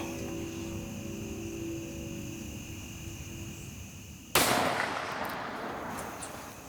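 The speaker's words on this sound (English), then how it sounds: "put it right in that pocket of her front shoulder. Just slowly squeeze the trigger like we practiced" A single loud rifle shot rings out during a youth hunt, striking a cow in the front shoulder; a sharp crack follows a stretch of quiet outdoor ambience and then decays in a lingering echo.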